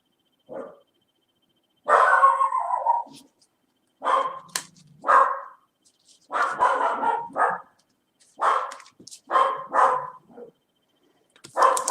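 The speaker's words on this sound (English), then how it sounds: "So that's the dog I have to keep quiet." Dog barking in repeated short bursts, roughly one every second or two, close and fairly loud with quiet gaps between.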